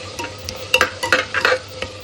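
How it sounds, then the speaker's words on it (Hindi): Onion, tomato and potato being stirred and fried in a pan, with a soft continuous sizzle under repeated scraping and clinking of a spoon against the metal, close and moderately loud with no talking. "अब आराम से मैं भूनूंगी इन तीनों वेजीज़ को, फिर मैं मसाला डालूंगी।"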